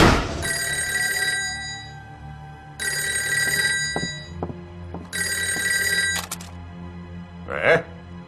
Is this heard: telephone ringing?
yes